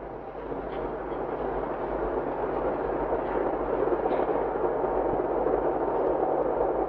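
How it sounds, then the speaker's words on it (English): A train passing in Saanen gives a continuous low rumble and roar at moderate distance, steady and unbroken for several seconds, with no voices over it. "there's a good old train."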